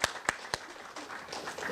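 A lecture audience gives a round of applause for a university honors college faculty speaker: a few sharp, distinct claps at the start, then a soft, thinning patter of scattered clapping at moderate distance.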